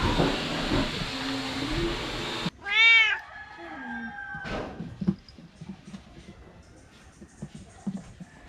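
A cat's meow rings out at an animal rescue, with rising and falling harmonic calls close by around the middle, after a broad hiss-like rush and before some scattered lighter noises.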